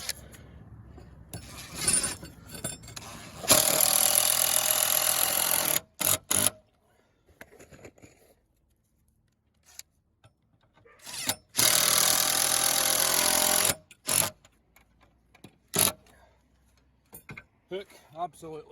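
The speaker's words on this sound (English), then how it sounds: "you're going to need an impact driver for this. It takes a lot of power to get these big screws in." Impact driver sinking big screws into a timber roof truss for a solar panel mount, two long loud bursts of hammering whir with short taps between and talk in the gaps.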